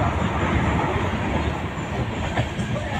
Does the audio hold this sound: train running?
yes